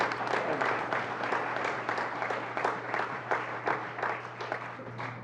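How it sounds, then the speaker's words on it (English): Crowd at a Cuyahoga Land Bank event applauding a panel, sustained even clapping that swells and eases in waves over a faint steady hum. "give the panel a round of applause"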